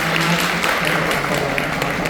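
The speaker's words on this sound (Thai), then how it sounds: "ขอเสียงปรบมือด้วยนะครับ" An audience at a public speaking event claps steadily, a dense wash of applause held at a constant level with a faint low hum beneath.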